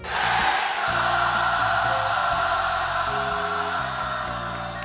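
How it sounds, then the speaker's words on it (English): A large crowd at Sonic's 25th anniversary party yells the Sega chant, one loud, sustained roar of massed voices with music droning underneath throughout. "He asks them to yell the famous chant, the Sega chant."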